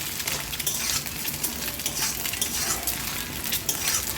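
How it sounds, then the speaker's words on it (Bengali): Eggs fry with whole cumin seeds in a pan, a steady hissing sizzle close up with faint scraping of a utensil, continuous and moderately quiet. "দেখো ডিমটা আমি ভালোভাবে একটু লাল লাল করে ভেজে নেব।"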